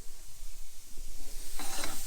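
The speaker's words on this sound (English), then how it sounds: "fennel a bit of a shake around" Fennel is shaken around in a sizzling pan, with a constant hiss under low rattling and scraping of pan movement and a brighter burst of sizzle near the end.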